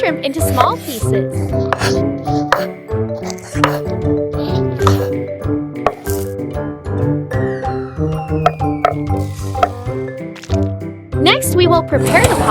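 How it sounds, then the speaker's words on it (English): Raw shrimp being cut into small pieces in a miniature kitchen, giving a steady series of close, sharp chopping knocks and light clinks with wet sounds, set against continuous background music. "Cut shrimp into small pieces."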